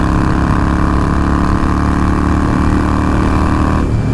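A derestricted Harley-Davidson Forty-Eight motorcycle engine runs loud and close, a steady deep throbbing rumble held throughout, shifting slightly in tone near the end.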